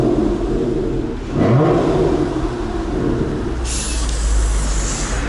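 Supercar engine at the Top Marques 2018 show, a loud, rough rumble that swells into a brief rev and then settles, with a hiss of air near the end, heard close up.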